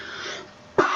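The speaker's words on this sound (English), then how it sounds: "Yeah, my cough is really bad," A single close, sharp cough bursts out near the end of the clip after a stretch of rough, breathy throat noise, suggesting a person with a bad cough.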